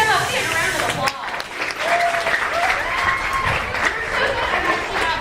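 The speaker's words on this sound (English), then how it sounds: "Let's give him a big round of applause." A crowd bursts into loud, sustained applause, many hands clapping together with some cheering and chatter mixed in, and a voice speaking over the top.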